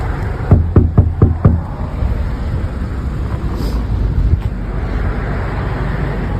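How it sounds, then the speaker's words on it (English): Four quick knocks on a door ring out near the start, a short evenly spaced series, followed by steady road traffic droning in the background. "we'll knock on the door and see if anyone's actually here"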